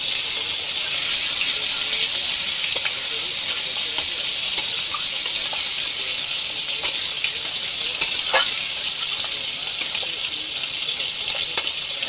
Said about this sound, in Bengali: এদিকে মাছ ভাজাটাও খুব সুন্দর হয়ে যাচ্ছে, লাল লাল হয়ে যাচ্ছে না মা? ভেজে নিচ্ছে।